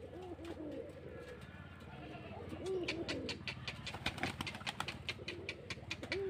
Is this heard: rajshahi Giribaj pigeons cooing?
yes